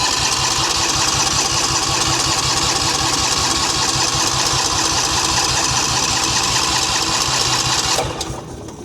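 A MechMaxx 8-inch wood chipper's gas engine running with a steady, loud, mid-pitched chugging rhythm, then cutting out abruptly near the end.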